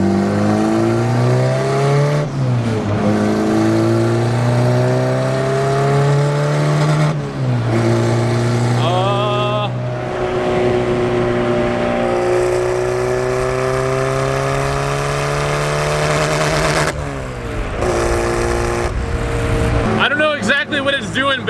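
A $500 Honda Civic with a big turbo kit accelerates hard through several gears, the engine note rising and dropping between shifts and stuttering as it breaks up just before boost, loud and close from inside the car.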